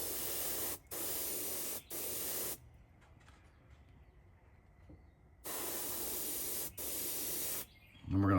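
Low-pressure spray painting of a fishing lure in a craw pattern, heard as several steady airbrush hiss bursts, each a second or so long, with short pauses between them and a longer quiet gap in the middle.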